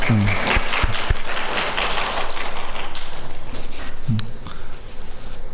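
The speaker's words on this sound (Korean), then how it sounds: "우리 하나님께 다시 한번 영광의 박수 올려드려요." Church congregation applause during a sermon, a fairly loud roomful of clapping with scattered thuds and low voices beneath, continuing steadily across the span.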